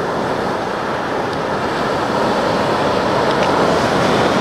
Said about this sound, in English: I'll be overcome by waves